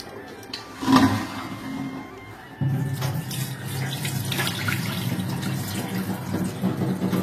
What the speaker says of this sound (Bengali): মাংসটাকে এখন ধুয়ে নিচ্ছি।